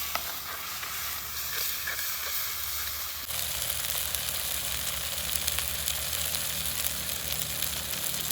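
Pepper chicken gravy with garlic paste stirring and sizzling in a pan, a steady broadband fry that brightens and grows louder partway through, with faint scraping from the spoon and no talk.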